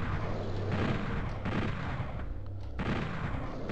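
Gunfire and blasts from the Nintendo 64 game Doom 64 come in heavy, rumbling bursts that keep overlapping at a loud, steady level, with short gaps between volleys and no speech.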